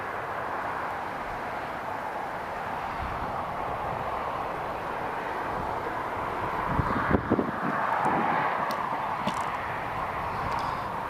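A Jet2 airliner at Newcastle International Airport produces a steady, broad roar with a distant hum. The roar holds level for several seconds, with wind buffeting the microphone and brief thumps partway through.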